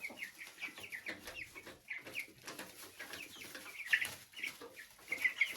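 Broiler chickens eating compound feed, clucking and cheeping in a busy, uneven chorus with short high calls, close and moderately quiet.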